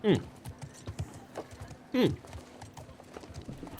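Horse hooves clip-clop in The Last of Us Part II, a few distinct steps standing out over steady background noise while people talk.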